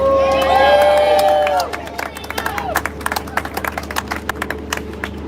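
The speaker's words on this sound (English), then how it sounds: "Please give a round of applause for Katrina." A crowd at a veterans' rally at city hall cheers loudly at first, with whoops and shouts, then settles into scattered, uneven clapping for a Navy veteran.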